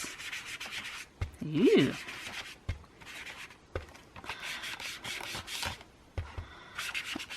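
A sponge dabbed and rubbed over paper with distress ink, giving soft scratchy rubbing strokes in short, irregular bursts, quiet and close, with a brief voiced exclamation.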